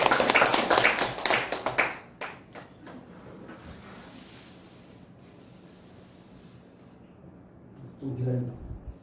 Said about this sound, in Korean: 찬양 인도하신 목사님 수고하셔서 박수 한번 하겠습니다.